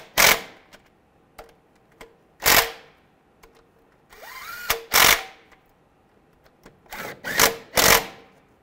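Bolts are tightened down on a 1998–2010 Volkswagen Beetle during a camshaft position sensor replacement, heard as several short bursts of power-tool whirring and ratcheting with sharp clicks and quiet gaps, close up and without speech.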